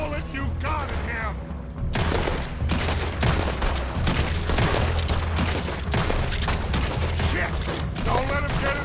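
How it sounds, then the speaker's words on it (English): Dense gunfire in the Western video game Red Dead Redemption 2, with loud overlapping rifle and revolver shots in rapid volleys throughout, a brief lull early on, and shouting voices mixed in. "Put every bullet you got in him!"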